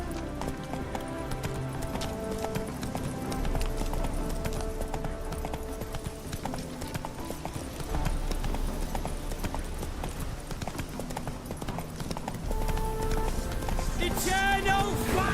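Roach the horse gallops in The Witcher 3 with steady, fast clip-clop hoofbeats that run the whole stretch beneath layered game music.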